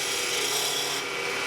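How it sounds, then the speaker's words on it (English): Continuous rough scraping hiss of a roughing gouge cutting a spinning hollow wooden handle blank on a lathe, loud and steady throughout. "I'm going to do this in with the roughing gouge"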